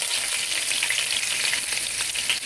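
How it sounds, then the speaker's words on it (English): Olive oil and butter sizzling in a hot pan during outdoor cooking in the rain, a loud continuous hiss and crackle that fills the short stretch. "I put a little bit of olive oil as the pan gets too hot, and I'm going to add some butter to it"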